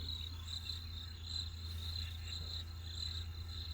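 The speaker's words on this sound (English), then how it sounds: "crickets" Crickets chirp in steady, pulsing trills over a low background hum, faint and continuous throughout.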